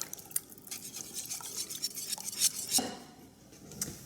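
Chicken and rice casserole ingredients being stirred together in a bowl, with soft repeated scraping and clinking of a utensil throughout, fairly close and moderately quiet, no voices.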